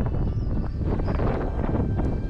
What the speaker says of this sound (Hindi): ठंड तो नहीं है लेकिन हवा चल रही है।